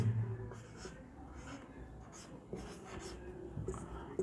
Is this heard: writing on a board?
yes